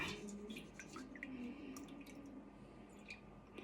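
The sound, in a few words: buttermilk dripping as it strains out of homemade butter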